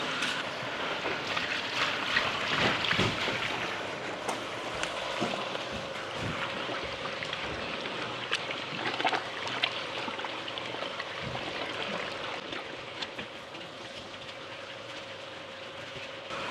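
A mixer churning hot mixed lime plaster mortar, a steady continuous rumbling wash with a faint tonal hum, unchanging throughout.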